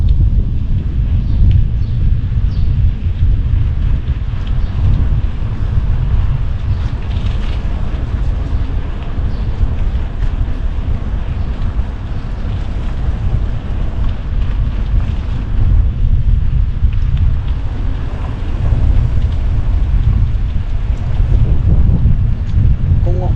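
Strong wind in Canada buffets steadily against the microphone, a constant low roar with gusty swells throughout, no clear voices above it.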